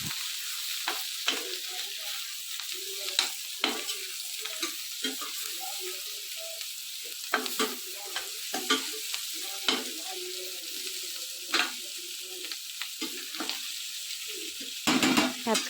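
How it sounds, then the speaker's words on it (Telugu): Capsicum pieces and onion frying in a pan with a steady sizzle, while a spoon stirs and scrapes in repeated clatters throughout; close and moderately loud, with no talking. "అండ్ నెక్స్ట్ వచ్చేసి క్యాప్సికమ్ పీసెస్ వేసేసారు."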